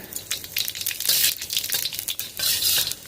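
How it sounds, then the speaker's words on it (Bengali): Bay leaves and cumin seeds sizzle in hot oil, a bright crackling hiss that rises and falls irregularly with light stirring scrapes, close and alone. "তেলটা ভালো করে গরম করে নিয়ে এর মধ্যে আমরা ফোড়ন দিয়ে দেব। তেজপাতা আর সাদা জিরে।"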